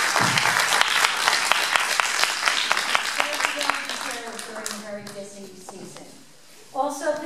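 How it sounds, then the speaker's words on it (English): A crowd at a 2018 Morris Township candidate forum applauds loudly and steadily, and the clapping thins out over several seconds as a voice begins talking over its tail. "please give her a round of applause"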